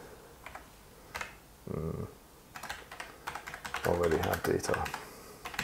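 Rapid clicking keystrokes on a computer keyboard come in short bursts and flurries, close and clear, while someone speaks briefly between them.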